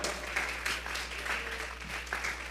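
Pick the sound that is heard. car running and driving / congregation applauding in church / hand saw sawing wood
congregation applauding in church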